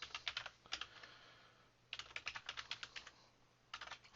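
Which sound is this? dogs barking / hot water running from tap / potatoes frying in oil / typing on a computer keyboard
typing on a computer keyboard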